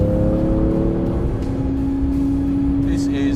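A 2018 Porsche 911 GT2 RS runs at speed on a racetrack, its engine a loud, close, continuous drone that climbs slowly in pitch with no break.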